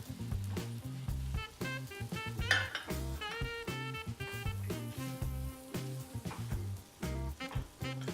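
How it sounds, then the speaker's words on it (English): A brown sugar and maple syrup sauce with cinnamon and nutmeg bubbles in a pan while a utensil stirs and scrapes, bright clinking strokes repeating over a steady sizzle, close by. "we're just gonna mix this until it's basically like a uniform syrup or a little bit of like a sauce"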